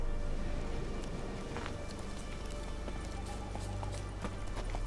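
Horse hooves running in the video game The Witcher 3, a steady galloping clip-clop over a dense background bed, moderately loud with no talk.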